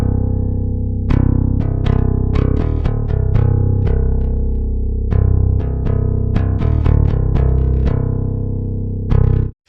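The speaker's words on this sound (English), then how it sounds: "in this example I have recorded a bass DI" Recorded bass guitar DI signal, clean and deep, with plucked notes in an uneven rhythmic line and sustained low tones ringing loud and close before stopping abruptly at the end.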